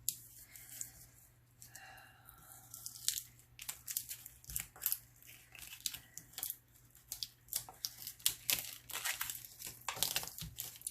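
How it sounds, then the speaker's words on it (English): Transfer tape for a tumbler is handled close up, giving a steady run of crinkling, crackling rustles and small pops that grow busier as the sheet is moved, with no speech. "I can maneuver the transfer tape if I need to"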